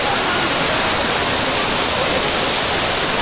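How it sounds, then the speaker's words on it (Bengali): Changey waterfall in Kolakham, Kalimpong roars as a dense, steady wash of falling water, loud and close, with no break or change throughout. "এতটা সুন্দর এই ওয়াটারফলসটা"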